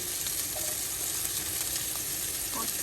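Onion, ginger and garlic sauté in a pan, giving a steady, close, moderately loud sizzle and hiss with a few faint stirring scrapes, with no talking.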